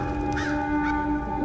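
Birds cawing like crows in a horror story sound effect, two harsh calls over a steady humming drone, with no speech.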